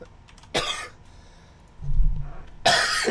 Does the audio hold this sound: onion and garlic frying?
no